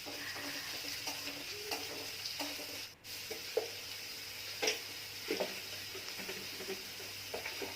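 Curry leaves fry with salt in a pan, a soft, fairly faint sizzle with intermittent stirring taps and scrapes of a spoon.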